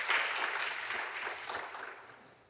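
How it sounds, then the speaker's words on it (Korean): Congregation applause during a church Sunday service, a moderate burst of clapping from a room of people that gradually thins and fades over a couple of seconds. "격려의 박수 한번 드리겠습니다"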